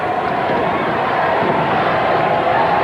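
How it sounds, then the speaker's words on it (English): Wrestling arena crowd at an NWA event roars in a steady, dense wash of cheering and chanting, loud and continuous with no gaps throughout. "I don't know if he can even hear this thunderous crowd as they are chanting and cheering him on."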